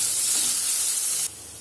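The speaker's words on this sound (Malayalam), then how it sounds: "ഇതും കൂടെ നന്നായിട്ടൊന്ന് വഴറ്റി കൊടുക്കുക" Grated carrot sautéing in a hot pan for rava idly, a steady close sizzle and hiss with light stirring that drops abruptly quieter near the end.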